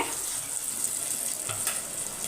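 Onions sautéing in oil for a sardine fish curry, a steady soft sizzle with faint stirring scrapes, moderately quiet and continuous with no voices.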